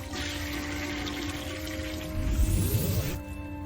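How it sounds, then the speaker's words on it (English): A toilet flushes in a single continuous rushing wash of water, swelling louder toward the end before cutting off abruptly, heard alone at close range. "you hear the toilet flush once more"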